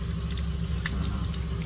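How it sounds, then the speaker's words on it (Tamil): Water running steadily from a tap during servicing of a five-year-old air conditioner, a continuous close hiss and splash with no talking. "திறந்து விடுங்க தண்ணி வந்து கொஞ்சம்."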